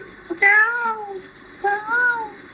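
A person's voice imitates a cat, giving two drawn-out, wavering meows with a short pause between them, fairly close and clear over a quiet background.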